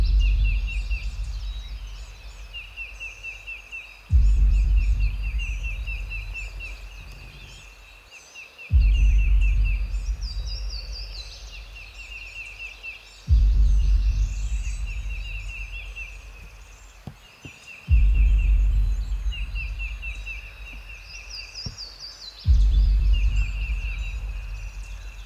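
Wild turkeys gobble in the Tennessee woods during a spring hunt, with loud gobbling bursts repeating about every four to five seconds, each fading away before the next, and no talking.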